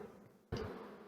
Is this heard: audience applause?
no